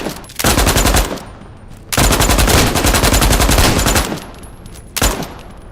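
Two loud double-barrel shotgun blasts from hunter mimics in the Into the Radius 2 VR game, each a long harsh roar, followed after a short pause by a third shot, all close and without speech.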